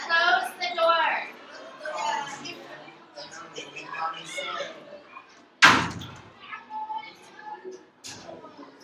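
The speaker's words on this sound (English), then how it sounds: "Close the door. Close the door." A door slams shut with one sharp, loud bang partway through, heard amid ongoing talk and household chatter.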